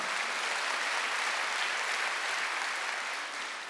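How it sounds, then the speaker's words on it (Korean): A church congregation at a Wednesday worship service breaks into steady, dense applause of many hands. It stays loud and even for several seconds, with no voices heard over it. "박수"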